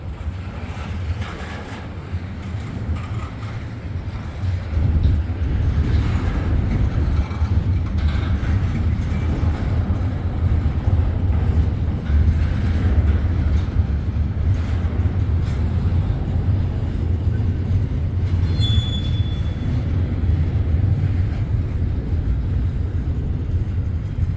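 A long CSX intermodal freight train rolls steadily past, a continuous heavy rumble with clanking wheels and a brief high squeal near the end.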